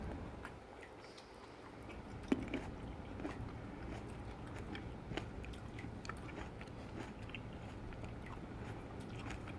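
Someone chewing a yellow cherry tomato from a home vegetable garden, soft close mouth sounds and small crunches over a few seconds, quiet and without talk.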